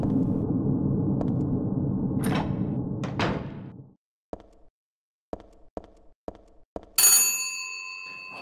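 A telephone rings in a subway station in the video game Silent Hill 3: a bright, sharp metallic ring bursts out near the end, after a low rumble fades and a series of soft knocks and clicks.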